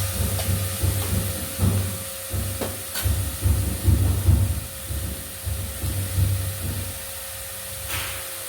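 Spinach leaves dropped into hot oil with mustard seeds for a Kerala thoran, giving a continuous hiss and sizzle with bursts of crackle and a low steady hum underneath.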